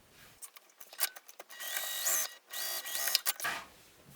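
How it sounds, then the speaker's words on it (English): A sewing machine runs in several bursts, stitching a straight seam along the top edge of a satchel with a set seam allowance, its motor whirring up and down with short pauses between runs, close and fairly quiet. "we're just going to sew across this straight edge here at the top with the seam"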